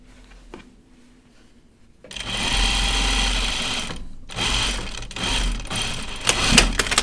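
A sewing machine runs a backstitched seam on a button-up shirt, starting after a quiet pause with a steady close whirring hum, briefly easing off, then resuming with slight changes in speed.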